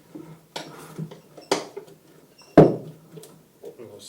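A tire spoon levering a motorcycle tire during a Tubliss tire change, sharp metallic scrapes and clanks in a few irregular close hits, the strongest one near the end, with quiet gaps between.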